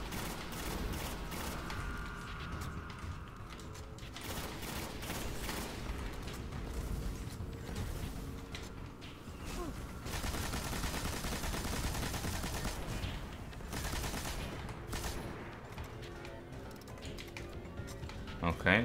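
Rapid automatic gunfire from a machine gun in the video game Destiny, streamed from Xbox One to Windows 10, with dense bursts of shots running almost continuously under game effects and someone talking.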